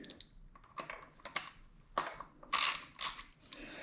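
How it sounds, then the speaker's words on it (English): Ratchet wrench loosening the 6 mm top bolt on a Yamaha R1 sportbike's fork triple clamp, with a series of sharp, irregular mechanical clicks and clacks up close, no talking. "we're just going to loosen that a bit. Until you can feel that bolt turn freely."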